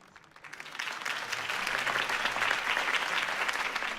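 Applause from a crowd in a Batman video game swells in after a brief quiet start and continues steadily, a dense patter of clapping at moderate loudness.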